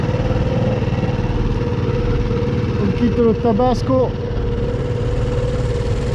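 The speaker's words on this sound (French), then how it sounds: "Sinon, le moteur s'étouffe et on cale." A small boat motor runs flat out on a crossing between Lipari and Vulcano in the Aeolian Islands, a loud, steady drone throughout while a person speaks over it.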